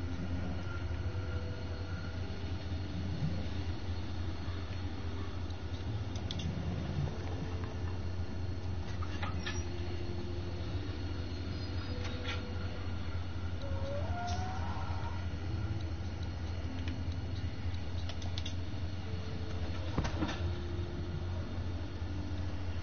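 A train in The Walking Dead video game rolls along with a constant low rumble and mechanical drone, steady and moderately loud, with occasional faint metallic squeals and clanks.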